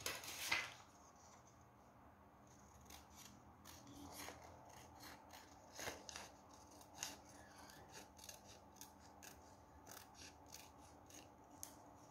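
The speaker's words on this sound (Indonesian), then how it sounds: "Oke, sekarang kita gunting." Scissors snip through a paper sewing pattern for a bustier or camisole, giving a series of sharp, crisp cuts in irregular bursts with soft rustling of paper between them, close up and with no talking.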